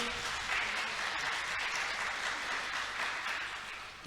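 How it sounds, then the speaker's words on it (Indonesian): An audience at a university-hosted radio broadcast event applauds on request, a steady, even roll of many hands clapping that holds for several seconds before easing slightly, with no speech over it. "Boleh tepuk tangannya lagi dong."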